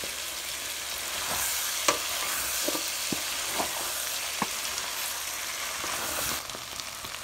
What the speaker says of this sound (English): Add in your achicha. And mix properly.